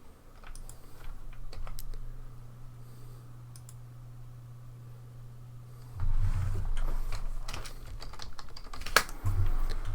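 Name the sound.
typing on a computer keyboard while playing EverQuest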